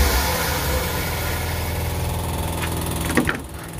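Suzuki Futura pickup engine running at idle, a steady close low rumble with continuous vibration and no voices, with a brief rise in revs near the end.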